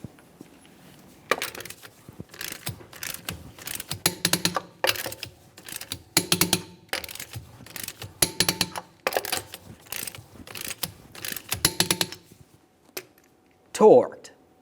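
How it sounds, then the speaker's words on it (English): Torque wrench being worked on lug nuts of a 1994-1997 Honda Accord wheel, in crisscross order to 80 foot-pounds: a steady series of sharp ratcheting clicks in bursts, moderately close, then a louder thump near the end. "we can torque each of these lug nuts to 80 foot-pounds."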